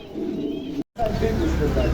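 Pigeons coo softly nearby in low, rolling calls under a muffled voice, and the sound cuts out briefly midway.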